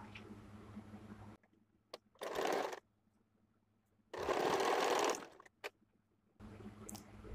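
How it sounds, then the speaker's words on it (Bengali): A sewing machine stitches the side seam of a blouse with a side zipper and piping, running in two short whirring bursts, the second longer, separated by quiet pauses over a low background hum. "এবার একটা সাইড থেকে প্রথমে ফোল্ড করে আমি সেলাই করে নেব, তাহলে সেলাই করতে সুবিধা হয়।"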